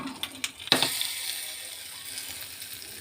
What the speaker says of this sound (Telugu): పచ్చళ్ళలోకి ఈ పోపు వేసుకోవాలి